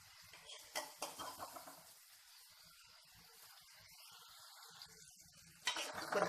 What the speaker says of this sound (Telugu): ఈ దోసకాయ ముక్కలు కూడా మనము లైట్గా ఫ్రై చేసుకుందాము